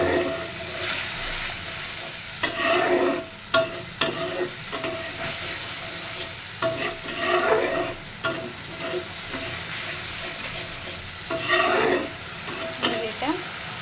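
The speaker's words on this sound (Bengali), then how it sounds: "মশলা কষাবো।" Spice paste for Bengali egg curry sizzles steadily in a pan, with a spatula scraping and stirring through it in repeated bursts, loud and close, with no talking.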